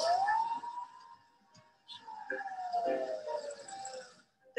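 A wailing siren rises and falls at a distance amid faint street noise, with no one speaking.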